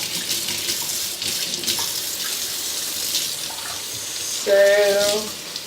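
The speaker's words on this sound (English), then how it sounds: "the instructions say to rinse this until there's no residue first. And I'm rinsing on warm water." Warm tap water runs steadily and close by while natural hair is rinsed at a sink, a continuous wash of splashing flow with a brief tonal ring near the end.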